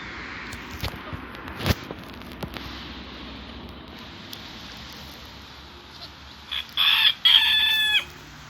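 Chickens and a rooster in a backyard coop as the hens are let out: scattered faint clucks, then a loud, close rooster crow near the end over quiet outdoor ambience.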